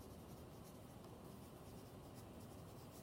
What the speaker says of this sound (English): I pick up my pencil and write my name